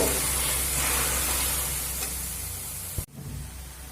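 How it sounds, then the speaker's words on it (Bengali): Paneer chow mein vegetables tossed with sauce in a pan over high flame, a loud continuous sizzle and hiss with stirring scrapes, ending in a sharp clack, no voices. "এবার কিন্তু আমি হাই ফ্লেমে কিছু সময় ধরে মিশিয়ে নেব"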